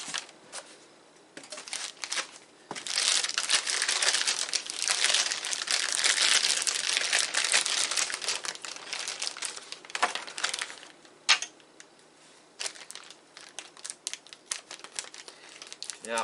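Packaging around a V4link Brother TN630/TN660 toner cartridge is being cut open, giving a long stretch of close, busy crinkling and rustling of plastic and cardboard with a few sharper snips and crunches, and no voice.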